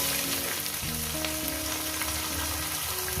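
Chopped onions frying in hot oil for a Bengali curry, a loud, dense sizzle throughout with sustained tonal music running underneath.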